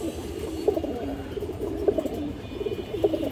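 Pigeons kept for sale coo softly and repeatedly in a loose rhythm, several low throaty calls close by over a steady background hum, with no talk.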